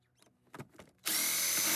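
A power drill spins up to back out 10mm bolts on a Porsche 914 with a VW Type 4 engine. A few light knocks are followed by an abrupt, loud, steady whirring close by.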